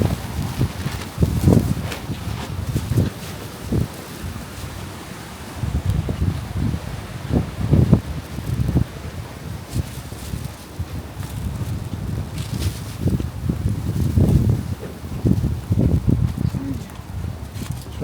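Strong wind gusts through the streets during a storm in Beijing, buffeting the microphone with rumbling, uneven blasts and rustling that rise and fall throughout, with occasional footsteps and brief voices.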